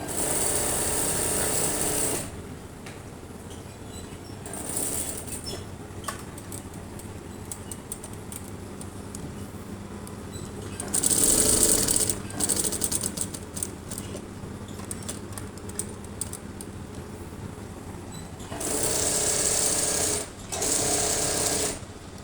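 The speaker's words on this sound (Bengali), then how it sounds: "স্কোয়ারটা সেলাই করে যাবো" A sewing machine stitches a square of fabric in short bursts of fast mechanical whirring, with quieter gaps of faint handling and clicks between runs.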